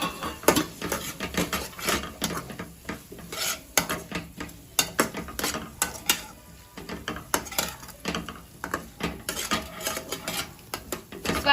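Spoon stirring coriander-cumin powder, garam masala and pav bhaji masala in a metal pan for masala pav, with repeated scraping and clinking strokes close by, no talk.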